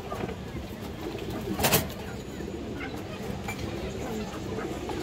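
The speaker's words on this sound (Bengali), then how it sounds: "বিগ সাইজের পাল্লা লাইনের দর্শক গড়া নর কবুতর।" Large male Garra pigeons of the Palla line coo in low, rumbling calls against a steady background hum, with one brief louder burst partway through and no clear talking.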